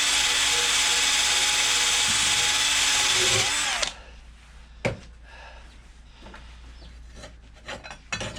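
A cordless power drill works on the recoil starter mechanism of a Power Devil PDG4350P lawn mower, running loud and steady for about four seconds before stopping, followed by quieter clicks, taps and handling noises.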